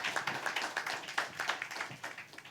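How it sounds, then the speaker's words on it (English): A small conference audience claps at a summit panel session, with uneven, fairly close individual claps throughout. "Please clap for Liz"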